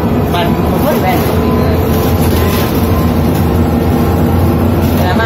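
A BredaMenarini M240NU city bus engine runs with a steady low rumble inside the moving bus, continuous throughout, with people talking over it.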